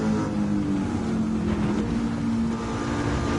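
De Tomaso Pantera with a swapped engine in Gran Turismo 7 drones at a steady, loud, sustained pitch throughout, with no talking.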